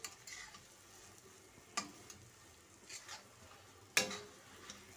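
A spoon stirring thick chana dal halwa in a pan, with a soft steady sizzle and a few sharp scrapes and clinks against the metal, faint and alone.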